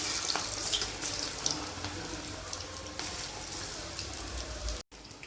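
Ivy gourd (kovakkai) pieces tossed into hot oil fry with a steady, crackling sizzle, fairly quiet and close, with scattered pops and spatters throughout, ending in a brief cut.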